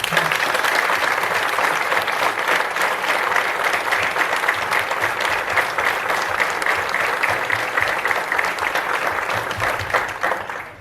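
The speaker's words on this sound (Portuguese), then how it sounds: "quero uma salva de palmas para todos eles" Sustained applause from the audience at a book launch for a philharmonic band in Alvarenga, steady and dense clapping filling the room for about eleven seconds before tapering at the end.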